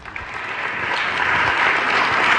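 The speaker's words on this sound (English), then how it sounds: "him a round of applause there" A crowd claps steadily, the applause swelling slightly louder as it goes on, dense and continuous.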